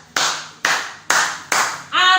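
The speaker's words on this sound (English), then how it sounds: "Applause for my baby" Four slow, loud, close hand claps at a home kitchen, evenly spaced and each ringing briefly, followed by a short burst of voice.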